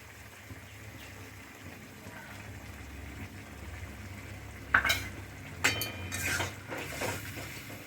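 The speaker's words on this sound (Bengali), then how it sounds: "চিংড়িগুলো এবার আমি এঁচড়ের মধ্যে দিয়ে দেবো।" Prawns being stirred into a jackfruit curry in a pan, with a few sharp utensil clinks and scrapes against the pan over a low, steady kitchen background; no one speaks.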